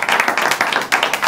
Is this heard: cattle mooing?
no